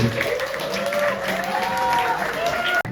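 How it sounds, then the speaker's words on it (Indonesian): Audience applause at a muhadharah speech event at an Islamic school, steady clapping sustained for about three seconds over faint background voices, then cutting off abruptly near the end. "Kasih tepuk tangan buat Pak Hasbi."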